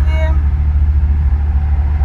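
A car idles in heavy stop-and-go traffic on a bridge, giving a steady, close low engine rumble with a brief higher tone at the start.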